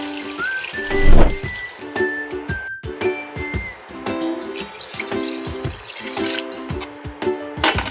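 Water, 1.5 liters, being poured into a pressure cooker of frying chicken for a Filipino Bisayang Manok with Ubad dish, a splashing, trickling pour with metallic clinks, loudest near the start, over steady background music.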